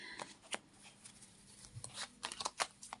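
A deck of cards being shuffled by hand, with quick papery riffles and snaps in irregular bursts, close and quiet, with no talking.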